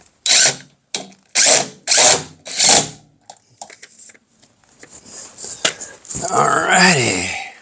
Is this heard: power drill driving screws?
yes